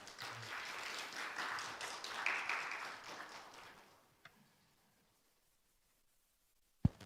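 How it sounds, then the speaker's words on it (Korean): A church congregation applauds, a broad crackle of many hands that swells and then fades out after about four seconds, followed by quiet and a single sharp tap near the end. "박수 부탁드립니다"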